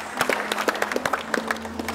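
A studio audience on a TV game show applauds for Sanjana, the claps arriving as a brisk, uneven patter of moderate loudness with a low hum beneath.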